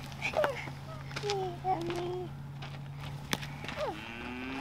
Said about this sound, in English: Oh, I hear a cow.